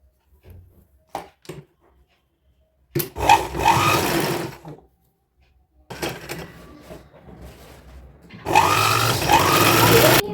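A sewing machine runs in three bursts of stitching, close and clear, sewing a side seam on a sling-bag strap for a designer outfit for a 4 or 5 year old girl. Brief quiet gaps fall between the bursts.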